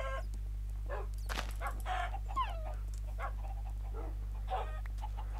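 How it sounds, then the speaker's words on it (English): Minecraft chickens clucking in short bursts, with a few higher squawks and clucks spaced across the clip over a steady low background hum, fairly quiet and alone without talk. "Okay, chickens."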